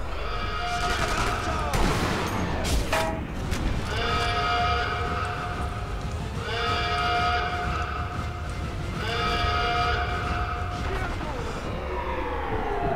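Gunfire in the video game Sniper Elite V2, with a burst of loud close shots early on, followed by repeated rising mechanical and siren-like tones, all over a steady game background.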